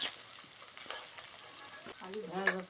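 Pieces of fried rohu fish sizzle steadily in hot oil while being lifted out one at a time, with a brief scrape and clink of a utensil toward the end; no one talks.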